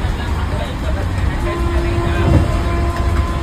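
A fast-moving train rumbles steadily from inside, a loud continuous roar with a brief horn-like tone midway and voices mixed into the noise.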